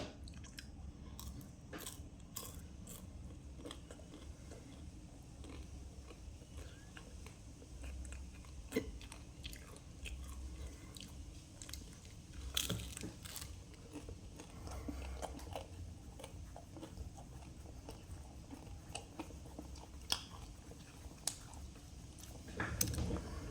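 Close, steady chewing and biting of a spicy, crunchy Bento squid snack, with repeated crisp crunches and wet mouth sounds continuing for over twenty seconds, quiet and without speech.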